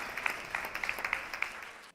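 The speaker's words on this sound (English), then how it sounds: "Just give him a round of applause while he comes up." A room of attendees at a business awards ceremony applauds while a committee chairman walks up to the stage, with scattered sharp individual claps over a moderate wash of clapping that cuts off abruptly.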